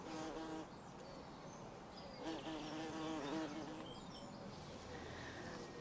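Bees buzz around a flowering shrub in a garden, a close, continuous droning hum that swells and wavers as insects move between the blossoms.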